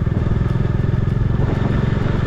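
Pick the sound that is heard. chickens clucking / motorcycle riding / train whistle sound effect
motorcycle riding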